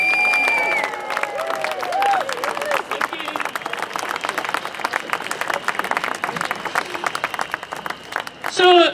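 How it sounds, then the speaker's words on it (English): A crowd at a Believe In Scotland rally in George Square, Glasgow, claps and cheers for a speaker, Marlene Halliday; dense, steady applause from many people with scattered shouts, and voices break in at the start and end. "give a massive round of applause for Marlene Halliday"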